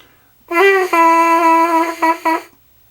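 A steady, reedy buzz from lips on a trumpet mouthpiece holds one pitch for about two seconds, breaking into a few short buzzes at the end.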